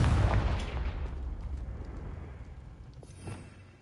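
A Confringo fire blast spell from the Hogwarts Legacy video game on PS5 bursts into a loud, booming explosion up close, then rumbles and decays over a few seconds with a faint secondary crackle near the end.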